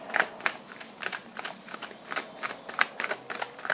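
Oracle cards being shuffled by hand, a close run of crisp riffling flutters and soft slaps in quick bursts, with no voices.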